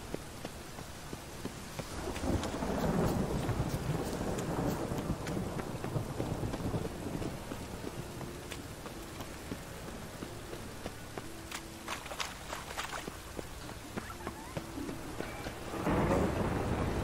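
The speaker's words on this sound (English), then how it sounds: "Rain, I like rain." Rain falls steadily with rolling thunder in The Witcher 3 video game, a continuous wash of rainfall broken by deep rumbling swells near the start and end, with faint footsteps beneath.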